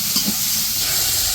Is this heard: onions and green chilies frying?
yes